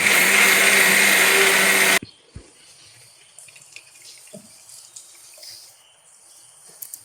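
A kitchen mixer grinder grinds dried rice for dosa batter with a loud, steady whirring roar that cuts off abruptly after two seconds, leaving faint clinks and quiet handling sounds.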